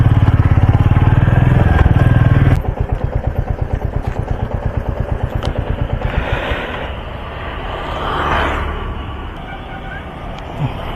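A Royal Enfield Bullet motorcycle engine thumps loudly and close, first revving hard, then settling into a steady rhythmic idle. A little background noise runs beneath it.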